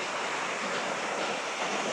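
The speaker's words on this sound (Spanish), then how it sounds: "Mirad qué salto de agua." Steady roar of a natural waterfall in open countryside in Canada, a dense, unbroken rush of falling water filling the whole moment at close range with no voices.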